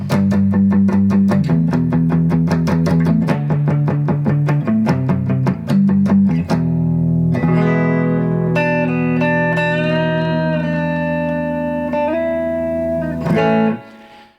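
An acoustic guitar revived after ten years in its case rings out alone with strummed chords and picked notes, loud and close, ending with a final sustained chord.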